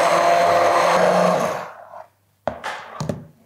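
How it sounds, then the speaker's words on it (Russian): A blender purees pumpkin soup made with coconut milk, whirring loud and steady for about two seconds before winding down, followed by a few short clattering knocks. "Через 5 минут суп можно пробить блендером."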